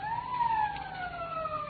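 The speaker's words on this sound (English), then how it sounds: "Police siren." A police car siren from a 1950 radio mystery drama sounds as a single long, gliding wail that slowly falls in pitch, steady and moderately loud with no talk over it.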